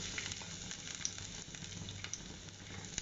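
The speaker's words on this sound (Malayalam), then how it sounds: "ഫസ്റ്റ് ഞാൻ ഗാർലിക് ഇട്ട് കൊടുക്കുകയാണ്" Chopped garlic frying in a pan on high flame for white sauce pasta, a steady dense sizzle with faint crackles, close and continuous with no talking.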